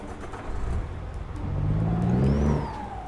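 A car engine revs up loudly while reversing into a parking bay, rising in pitch and swelling over a couple of seconds before easing off, heard nearby.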